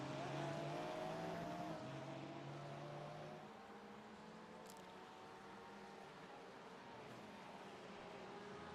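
Porsche race cars roar around the Road VIR circuit, engines droning at a distance with rising and falling pitch, fairly faint and steady, with one car fading as it passes.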